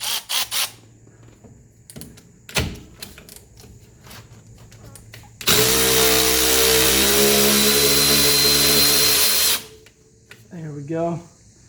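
A 10 mm nut on the front shock mount of a 1983 Mercedes 300D is run off with a 12-point socket: scattered clicks and clanks, then one loud, steady mechanical whir lasting about four seconds, with a brief voice near the end.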